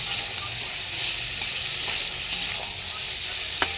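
Mixture sizzling in a pan while sugar is stirred in, giving a steady close frying hiss with faint scraping of the stirring and one sharp clink near the end.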